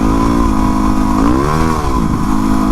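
A Kawasaki WR250R supermoto with a slipping clutch revs steadily nearby, its engine note rising and falling in a smooth sweep while the speed fails to follow, loud and continuous with no talk.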